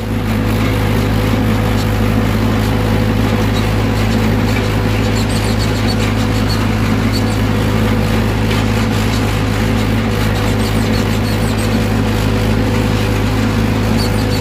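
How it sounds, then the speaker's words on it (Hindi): A Mahindra 585 XP Plus tractor ploughs a field under load with its wheels slipping, its diesel engine giving a loud, steady, unbroken drone throughout with no talking. "स्लिप लेकर चल रहा ट्रैक्टर, लेकिन ये देखिए मतलब इंजन नहीं दब रहा"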